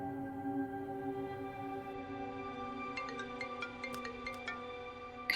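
A phone ringtone plays a repeating electronic melody with sustained tones, steady and moderately loud, with no talking.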